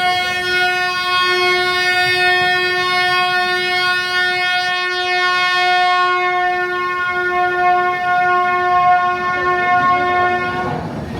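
A train at a station sounds a long, loud, steady horn blast lasting about eleven seconds, very close and alone without voices.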